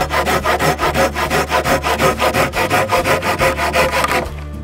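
A hand saw cuts through a wooden pole for a bushcraft chair with fast, even back-and-forth strokes, loud and close, before stopping near the end.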